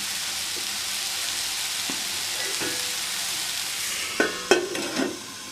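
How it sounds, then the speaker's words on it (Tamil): Okra poriyal cooks in a pan, giving a steady close sizzle with a few scattered clinks and scrapes of stirring near the end and a lid going on; no voices. "இனி மூடி வச்சு ஒரு 10 நிமிஷம் நல்லா வேக விட்டுடலாம்."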